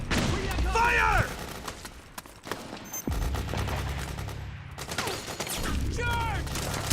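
Gunfire in Metal Gear Solid 4 on PS3 crackles in dense bursts, heavy at the start and again toward the end, with shouted voices cutting through the battle.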